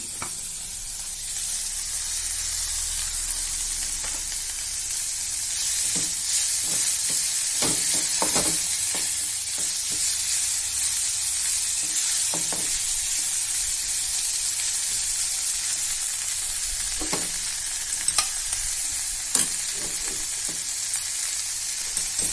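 Fenugreek leaves sizzle and fry in a pan with a constant hissing crackle, broken by occasional clacks of stirring as they cook, close and steady throughout without any talking.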